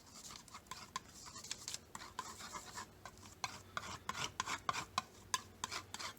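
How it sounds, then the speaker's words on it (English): A brush or palette knife scrapes and rubs as it mixes black paint into phthalo blue, making quiet rhythmic strokes with small ticking taps, close but soft, with no talking. "I'm going to take just a small little tiny bit of black and mix that into my phthalo blue"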